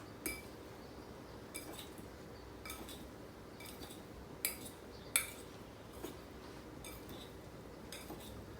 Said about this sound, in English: Toss in the blueberries, and we're going to give this a quick stir